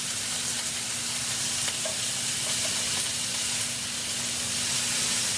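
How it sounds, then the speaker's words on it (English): Creole green beans with greens and reds fry in a skillet as they are stirred together, giving a steady, close sizzle and hiss with occasional faint scrapes and no voices. "So I'm just going to get this all mixed together in the skillet."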